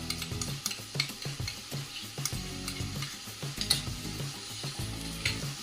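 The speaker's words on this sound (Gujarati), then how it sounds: "હવે આ બધાને બરાબર મિક્સ કરી લઈશું." Macaroni pasta being stirred together with pasta masala, Kashmiri red chilli, pasta sauce and tomato ketchup, giving soft sizzling with repeated scraping and clinking strokes of a spoon against the pan, fairly faint and without talking.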